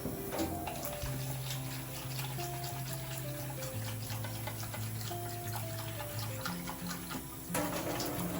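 Hot water poured into a bowl of pork-bone broth for tonkotsu ramen, a steady running, splashing pour lasting several seconds with a faint tonal hum underneath.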